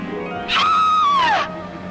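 A person lets out one loud, high-pitched scream that rises, holds steady and then falls off, lasting about a second, with quiet before and after.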